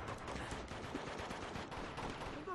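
Sustained automatic gunfire from a pirate's gun in the video game Uncharted 2: Among Thieves, a dense, continuous rattle of shots filling the whole moment with no talking.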